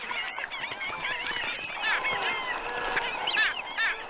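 Waterbirds calling by shallow pools along the edges of Amazon waterways, a dense overlapping chorus of honking and chattering calls with clear squawks rising above the crowd, steady and fairly near.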